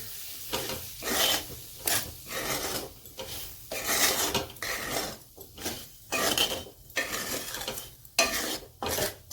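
Spiced potato pieces with a squeeze of lemon juice being stirred and tossed in a pan, giving repeated close scraping and rasping strokes in an uneven rhythm with a faint sizzle underneath.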